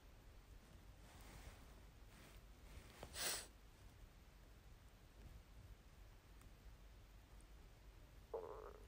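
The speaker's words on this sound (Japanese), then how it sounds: "お腹が鳴っちゃう体してる。" A person's stomach rumbles with a soft, brief gurgle. It is very faint against a quiet background hiss.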